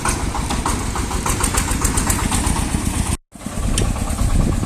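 A vehicle engine pulling a loaded drawbar trailer drones steadily at a low, rumbling idle-like pitch, loud and close, with a brief cut near the end.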